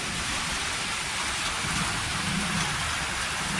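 Heavy rain pours down on Gundala village in a dense, unbroken roar of drops, loud and close, steady throughout with a low rumble underneath.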